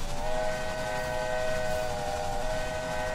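A train in the Railway Empire game rolls along with a sustained whistle-like tonal hum over a steady rumble of running gear, continuous and close.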